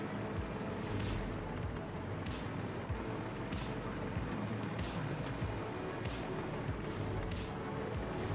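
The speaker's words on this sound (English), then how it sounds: "He's still shooting at me?" Dense, continuous enemy gunfire in a video game, a steady roar of overlapping shots with occasional sharper cracks standing out over a heavy low rumble, with no voices.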